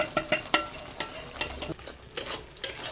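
Kundri with salt, chili powder and turmeric stirred in hot oil: a spoon scrapes and taps the pan in uneven strokes over a soft, continuous sizzle, near and without talk.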